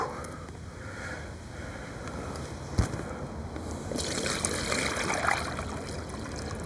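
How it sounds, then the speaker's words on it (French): Water is poured into a basin to mix groundbait for method feeder fishing, a continuous close trickle that swells into a fuller, louder rush partway through. "Donc on remplit la bassine de flotte."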